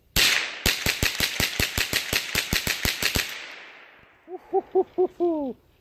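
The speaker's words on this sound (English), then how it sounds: "So let's go ahead and rip these rounds off." HC3R rifle magazine emptied in rapid gunfire, a burst of about a dozen sharp, evenly spaced loud cracks with echoing tails, then a few softer low hoot-like sounds near the end.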